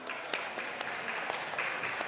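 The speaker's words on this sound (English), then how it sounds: "Should we give them a round of applause?" An audience applauds candidates at a student election question-time night, a steady dense wash of clapping with no talk over it.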